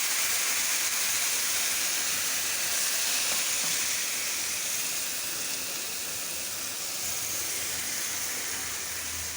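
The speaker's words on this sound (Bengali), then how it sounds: "এখন মশলাটা ভালো করে কষাবো" Masala paste of onion, ginger, chili powder, salt, turmeric and coriander powder frying in oil, giving a steady close sizzle and hiss that holds level throughout with no voices.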